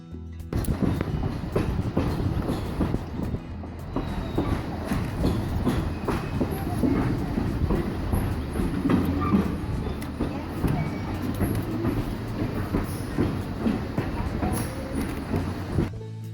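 A Colebrookdale Railroad passenger train in Boyertown rolls along steadily, its cars rumbling with rhythmic clickety-clack of wheels on the rails throughout, a continuous close ride with faint voices underneath.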